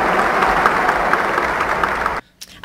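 Concert audience applause for a Jussi Björling performance of O Helga Natt, dense steady clapping filling the room for about two seconds before cutting off abruptly into near silence.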